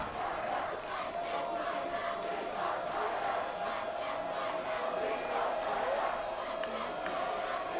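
Stands at a 2014 high school football game between the SKHS Wolves and Gig Harbor Tides, with the crowd chanting together in a steady rhythmic pulse, distant and moderately quiet.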